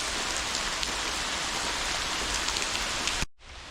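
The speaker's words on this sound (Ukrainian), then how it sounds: "Оце так уперіщив дощ." Heavy rain pours steadily in a forest, a dense, loud, unbroken hiss of drops close by that cuts off abruptly near the end.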